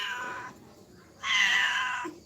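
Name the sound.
cat meowing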